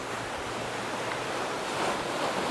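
Small, gentle ocean waves roll onto a Puerto Rico beach, a steady broadband wash with a slight swell toward the end, mixed with some wind noise and no talking.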